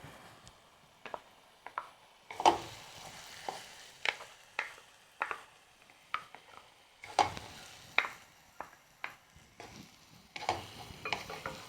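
Beetroot and dates pickle is stirred in a pan, making irregular scraping and tapping strokes, some sharper and louder than others, over a faint background with no talking.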